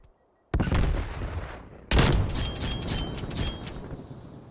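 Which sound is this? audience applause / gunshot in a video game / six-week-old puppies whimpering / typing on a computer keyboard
gunshot in a video game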